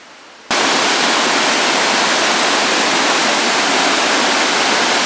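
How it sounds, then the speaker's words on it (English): Spoonauger Falls in the Chattooga River watershed, a 50-foot waterfall pouring in a broad sheet down a stepped rock face: a loud, steady, close roar of rushing water that cuts in abruptly after a quiet instant and continues unbroken. "Spoonauger Falls runs down a stepped rock face in a broad sheet."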